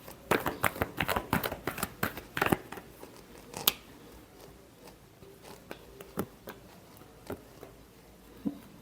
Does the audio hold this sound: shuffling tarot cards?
yes